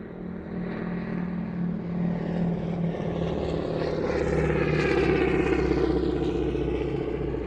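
A World War II P-51 propeller fighter flying overhead, its steady engine drone building and swelling louder toward the middle as it passes, continuous and unbroken with no voices.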